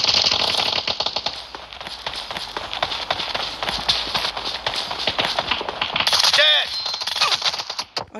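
Rapid gunfire from the battle-royale video game PUBG in an eight-player team deathmatch: dense, continuous bursts of sharp cracks that are loud and close, running almost unbroken to the end.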